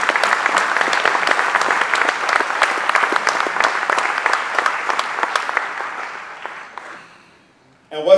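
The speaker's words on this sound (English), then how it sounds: "I'd like to ask if you can give them a round of applause for their contribution." An audience gives a sustained round of applause for energy experts at a Bermuda energy plan presentation, dense clapping that thins out and fades away near the end.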